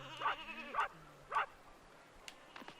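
A dog in the video game Space Station Silicon Valley gives three bleating, wavering barks in quick succession, fairly loud and alone, followed by faint clicks.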